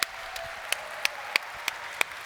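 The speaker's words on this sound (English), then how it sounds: "Give a huge round of applause to ENRIQUE ARCE." Short applause from a convention panel audience at a comic con in Austria, with scattered distinct claps rising out of a steady crowd wash, near and moderately loud.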